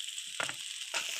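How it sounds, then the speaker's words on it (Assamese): Boiled noodles salted and tossed in a hot pan give a soft sizzle, with two short bursts of stirring and scraping over a steady frying hiss. "দিয়াৰ পিছত ভাজি লৈছোঁ ভালকৈ"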